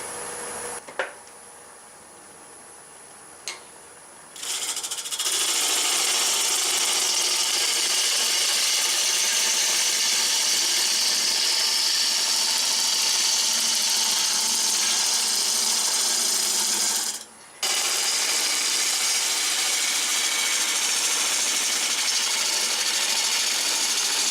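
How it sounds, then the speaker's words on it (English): A bowl gouge peels wood on a lathe while turning a pumpkin-shaped box, giving a steady, loud hissing cut that starts after a few quiet seconds and briefly drops out once before resuming. "We're going to peel with this curved edge of the bowl gouge."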